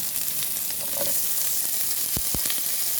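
Garlic and onion frying in hot oil in a pan for a Filipino upo and shrimp-head sauté, a steady close sizzle with a couple of short stirring clatters near the end.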